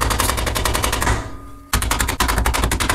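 A new axle on a Seicento Abarth is driven into place with a rapid burst of hard metallic hammer blows, loud and close, broken by a short pause before the pounding resumes.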